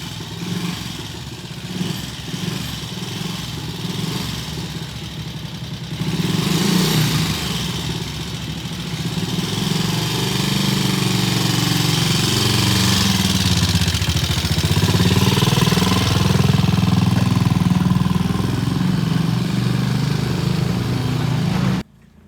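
A T20M motorcycle fitted with a new carburetor runs hard, its engine buzzing and clattering, growing louder as it approaches and revs through passing sweeps before cutting off sharply at the end.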